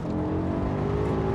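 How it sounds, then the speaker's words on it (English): A BMW E60 M5 on a UK road gives a loud, steady, close engine drone with a rich harmonic whine, like high revs easing into engine braking after lifting off, with no voices. "Nice bit of engine braking there, so when you do lift off"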